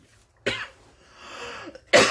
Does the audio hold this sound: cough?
yes